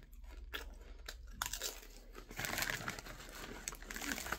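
Crunchy bites and chewing of Popcorners spicy cheddar popcorn chips, close and fairly quiet, with crisp crackling bursts that thicken into steady dense crunching.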